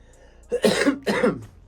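A single throaty cough in two quick bursts, close and clear against near silence.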